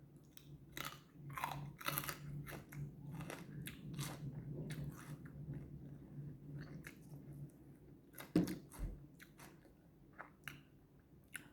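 A large green apple is bitten and chewed up close, with sharp wet crunches in bursts followed by softer, squishy chewing and a loud crisp bite late on, with no talk.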